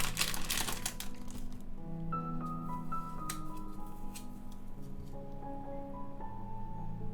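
Dark foil wrapping around a POP MART Skullpanda The Paradox blind box is crinkled and torn open, with loud close rustling at first that continues more softly under a faint musical background.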